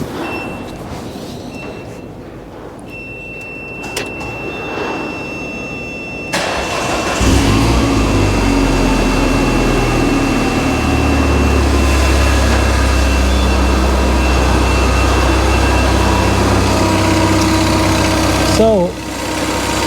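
A Peugeot RCZ-R engine, rebuilt with a rocker cover gasket oil leak, fires up around seven seconds in and then runs steadily and loudly close by, with a steady low drone and a brief spike near the end.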